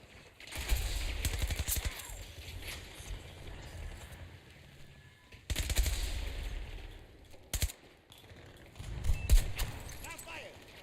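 Bursts of video game gunfire from a Battlefield-style battle, three loud clusters of rapid shots with quieter gaps between, a voice talking at moments over the shooting.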